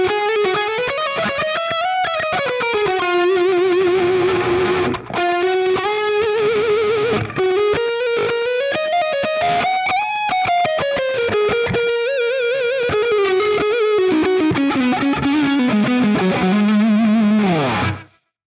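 Electric guitar played through a Neural DSP Nolly amp sim with delay and other effects pedals, a loud sustained distorted lead line with bending, gliding notes that runs continuously and alone before cutting off at the end.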